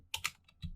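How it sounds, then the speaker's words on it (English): Computer keyboard keys typed in short bursts while entering code, a few quick clicks close by and fairly quiet with a soft thump at the end. "So we will just type it right here."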